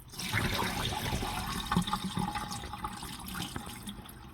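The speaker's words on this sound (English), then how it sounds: "Now you're gonna pour the water out." Water poured out of a pot of freshly washed rice while cooking Haitian rice and beans, a steady close splashing and gurgling stream running continuously without pause.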